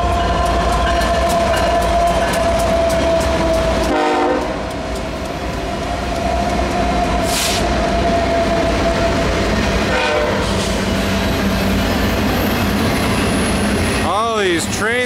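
A BNSF freight train with four locomotives passes close by at speed, a loud continuous rumble and rattle of cars with horn blasts; a person talks over it.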